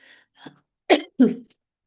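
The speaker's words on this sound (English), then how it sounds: "I'm coughing." Two sharp coughs in quick succession, close and loud, after a couple of faint breathy sounds.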